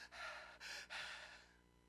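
A voice imitates a child struggling to breathe through a blocked nose: three strained, wheezy inhalations in a row, the last one trailing off.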